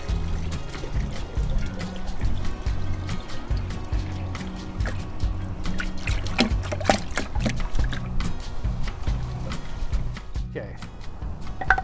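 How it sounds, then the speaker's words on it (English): Wet natural clay being rinsed and strained with water, producing continuous pouring, trickling and sloshing close by, with a steady busy texture of liquid movement throughout. "I'm gonna rinse this, and we're gonna strain it one more time."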